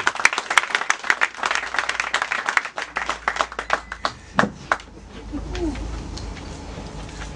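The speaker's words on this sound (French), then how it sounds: "je veux qu'on applaudisse encore pour Sid Obianze" An audience at a project presentation for the commune of Akanda claps, starting with sharp, distinct near claps that thin out into scattered, softer clapping before fading into room noise and a low rumble.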